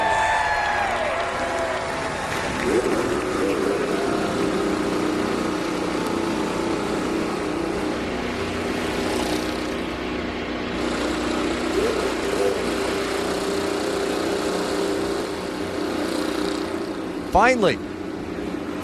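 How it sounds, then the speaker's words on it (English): Multiple IndyCar engines fire up and idle together on the street circuit at St. Petersburg, a dense, continuous mechanical drone with crowd noise and a loud burst near the end. "Drivers, start your engine!"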